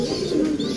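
A pigeon kept in a loft gives a single short, close, low coo lasting under a second, with no talk.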